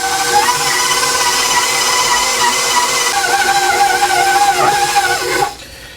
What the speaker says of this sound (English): we're going to turn our mixer on and let this mix slowly for about a minute